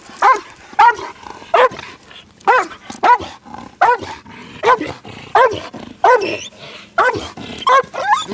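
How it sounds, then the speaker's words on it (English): A dog barks loudly and close by, about a dozen sharp barks in a steady rhythm over several seconds, with no talk over it. "That dog is hungry."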